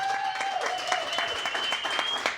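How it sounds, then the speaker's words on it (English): Audience applause for Demi Palecek at a campaign breakfast, a steady wash of clapping that runs the full couple of seconds with a few sharper claps standing out. "Give Demi a round of applause for doing that."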